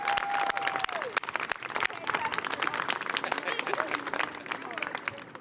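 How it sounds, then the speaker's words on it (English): Audience applause and clapping at a City Hall rally for a Styrofoam ban, steady and dense throughout with some scattered voices mixed in, fairly close. "Let's give them a big round of applause."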